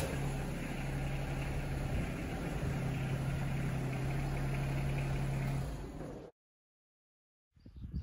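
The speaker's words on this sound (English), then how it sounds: "We're going to start the tractor, lift the deck up," A Yanmar SA324 compact tractor engine idles in a steady, even drone, then cuts off abruptly, followed by brief silence and a short burst of noise at the end.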